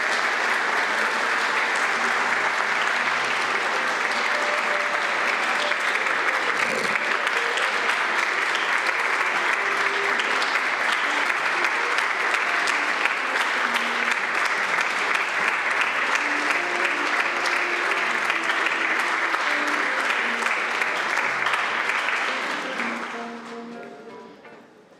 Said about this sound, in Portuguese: uma salva de palmas aos homenageados deste dia